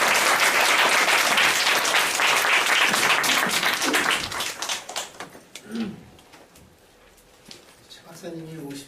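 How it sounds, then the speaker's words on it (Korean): A church congregation applauds to welcome a pastor, loud dense clapping that fades out over several seconds before a voice begins speaking. "같이 박수로 목사님을 모시도록 하겠습니다."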